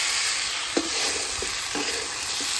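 Meat sizzles in a hot pan as it is fried in home cooking, with a continuous bright hiss broken by a few scraping stirs of the spoon against the pan.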